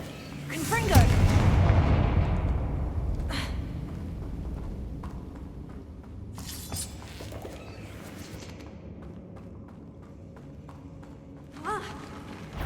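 In the video game Hogwarts Legacy, a Confringo explosive spell goes off with a loud booming blast that rumbles and fades over several seconds. Later comes a second, smaller burst, and spoken words run over the game sounds.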